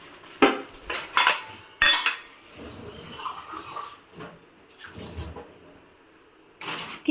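Plates and cutlery clink and clatter in a home kitchen in several sharp bursts, with quieter rattling in between and no talk.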